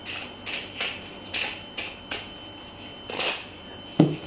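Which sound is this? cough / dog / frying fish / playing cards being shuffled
playing cards being shuffled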